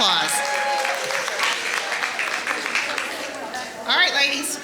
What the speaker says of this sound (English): Would y'all please give her a round of applause?